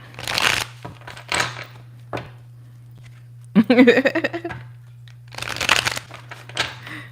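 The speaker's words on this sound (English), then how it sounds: "I'm shuffling the cards so we can get into this reading" A deck of tarot-style reading cards is shuffled in several crisp riffling bursts, close and fairly loud, separated by pauses, with a voice speaking briefly in the middle.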